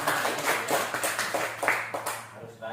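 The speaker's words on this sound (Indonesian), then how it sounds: "Tepuk tangan dulu." A school class claps hands in a rhythmic pattern, sharp bursts repeating at a steady pace, with voices mixed in around the claps.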